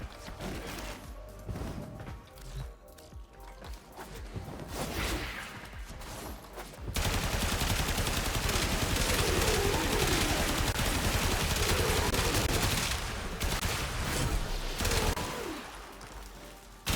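Braton Incarnon rifle firing in Warframe, a sparse stretch of shots giving way to a long, loud, continuous burst of rapid automatic fire with crashing impacts.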